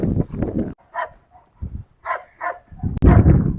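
Rottweiler during bite training barks in short, loud bursts with whines and yips between, close by, ending in a harsh burst of barking.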